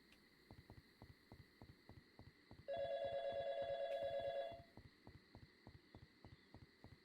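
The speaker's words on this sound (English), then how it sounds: "We're gonna keep getting phone calls?" Telephone ringing in the post-modern RPG Y2K, a loud electronic trill lasting about two seconds over a looping heartbeat-like pulse and a faint hum, with no voices.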